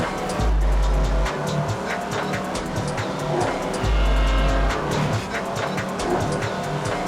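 A racing car engine from a big-rimmed truck or SUV in the video game Midnight Club 3 roars loud and steady for the whole stretch, with the revving rising and falling and occasional tire squeal.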